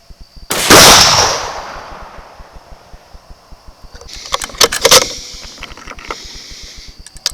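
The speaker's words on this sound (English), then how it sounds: "Shoot a couple more times." Rifle test firing at an outdoor range: one loud, sharp gunshot near the start with a long decaying tail, then a cluster of quieter sharp cracks and clicks a few seconds later, with no talk.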